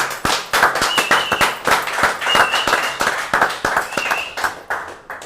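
A small studio audience claps for former vice president Amado Boudou on a political TV talk show, sharp separate hand claps in an uneven, fairly quick rhythm, close and loud, with a faint thin tone running through parts of it.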